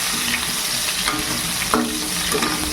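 Potatoes coated in salt and turmeric fry in hot oil with a bay leaf, a loud, steady close sizzle with occasional stirring scrapes and no voices.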